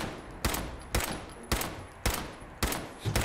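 Gunfire in Fallout 4 as five or six evenly spaced, sharp shots about half a second apart, each with a short tail, moderately quiet and without talk.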